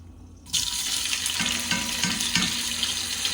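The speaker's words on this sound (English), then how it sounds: "I'm going to start scooping these into the pan." Food sizzles and fries as it is scooped into a hot pan, a sudden hiss that starts loud and continues steadily with a few soft scraping knocks, no voices.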